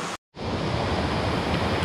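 A tall waterfall on a Pennsylvania Grand Canyon tributary roars as a dense, steady wash of rushing water, close and loud, briefly cut to silence near the start.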